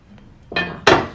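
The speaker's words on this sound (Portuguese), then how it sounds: "Então, vou pegar a panela agora pra mostrar." A large, heavy oval bread-baking pot set down on a glass table at close range, giving two knocking clanks of metal on glass, the second louder and ringing briefly; no voices.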